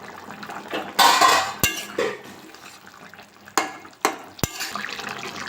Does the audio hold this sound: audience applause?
no